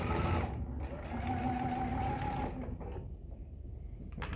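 A sewing machine stitching fabric for a tissue tote, a steady close whirring drone with a rhythmic mechanical buzz that slows and quiets near the end as it stops at a corner.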